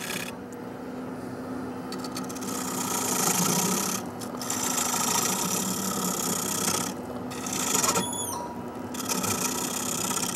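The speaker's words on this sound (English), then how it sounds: "you can hear the belt that is driving it from the electric motor squeal" A small, low-powered wood lathe turns a bowl while the tool scrapes and rasps against the wood, with the motor's drive belt giving a thin, intermittent squeal under the steady whir.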